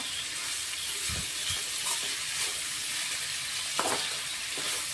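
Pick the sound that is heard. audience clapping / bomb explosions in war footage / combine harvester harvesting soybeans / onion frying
onion frying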